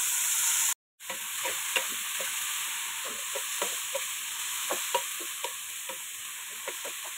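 Mushrooms sizzle steadily in a pan with onion, garlic and spices, with a brief cutoff near the start and frequent utensil scrapes and stirs ticking through the continuous frying hiss.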